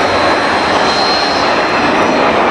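Red Arrows jets in a flying display, a loud continuous broadband jet roar with a steady high whine, sustained close overhead with no pause.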